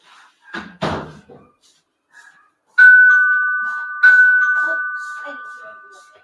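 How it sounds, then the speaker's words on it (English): Indoor doorbell chiming twice, two clear ringing tones a little over a second apart, each decaying slowly, preceded by a few thuds and clatter of a door or cupboard. "I don't know why they have to ring the bell twice like that"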